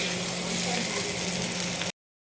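Potato and pointed gourd curry sautéing in a pan for a fish jhol, a steady close sizzling hiss with faint stirring scrapes, running evenly for about two seconds before cutting off abruptly.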